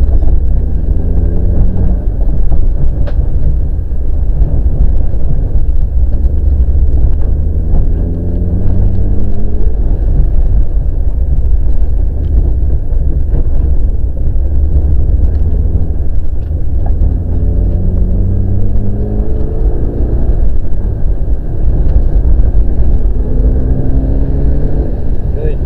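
Mitsubishi Evo rally car on a track at Tailem Bend, engine droning loudly and steadily with rising and falling tones as it accelerates and brakes, close up throughout.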